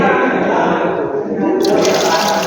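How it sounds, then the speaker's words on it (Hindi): Tap water poured steadily into the tub of a domestic washing machine, a continuous close splashing and gushing flow that brightens and grows fuller toward the end. "ये पानी डाल दिया है"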